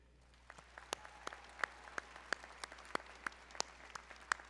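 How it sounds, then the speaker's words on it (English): Scattered, sparse clapping from graduates at a spring business school commencement in a large hall: a dozen or so distinct claps spread across a few seconds, fairly faint and distant. "Graduates, please join me in a round of applause for the family and friends who helped you get here today."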